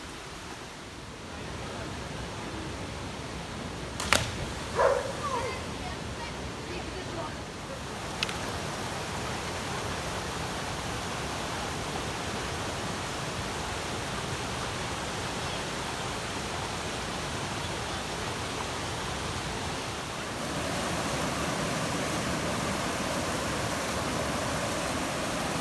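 The Linville River rushes past in a broad, steady wash of flowing water, loud and continuous from start to end, with a few brief knocks near the beginning and the roar growing slightly fuller toward the end.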